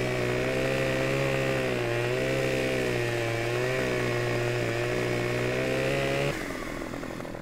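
Loud, steady chainsaw whine cutting through a fir tree in Farming Simulator, holding a sustained buzzing pitch for several seconds before the engine tone drops and shifts near the end.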